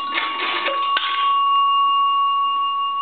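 Inside an A&E three-slot payphone, a nickel clatters through the mechanism and strikes the bell a single time, leaving a bright sustained ring that lingers and slowly decays, heard close with no speech.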